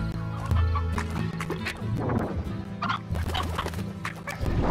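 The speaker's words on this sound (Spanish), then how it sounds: "Encontré una gallina pétrea por acá" A rock chicken in the Slime Rancher video game clucks and squawks in short bursts over a steady game backdrop, with no one talking.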